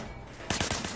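Short burst of rapid gunshots in the video game Sleeping Dogs, starting abruptly after a quiet moment with several close, loud shots in quick succession.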